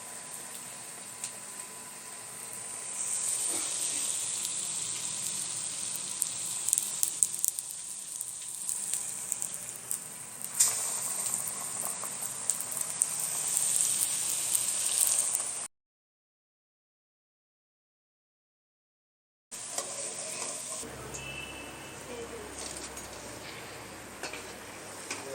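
Potato bondas coated in gram-flour batter frying in hot oil, a steady close sizzle with light crackling and occasional utensil ticks, cutting out briefly before the bubbling resumes.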